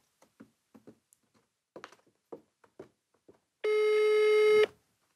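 A telephone busy signal sounds as one loud, steady electronic tone lasting about a second, after a quiet run of soft taps and clicks.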